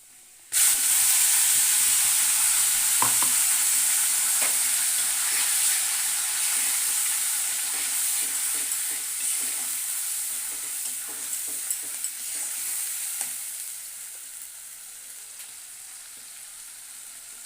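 Spice paste of turmeric, chicken masala and red chilli hits hot oil with a sudden loud sizzle that holds as a steady bright hiss, with scattered spoon clicks and stirring scrapes, slowly easing near the end without talk.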